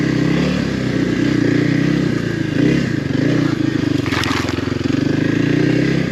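A Kawasaki KLX 300R dirt bike rides a wooded trail in first gear, its engine droning loud and constant while clatter and scraping from the rough ground and branches crop up along the way.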